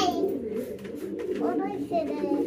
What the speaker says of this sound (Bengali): কবুতরগুলো দেখেন ওয়েট করে আছে খাবারের জন্য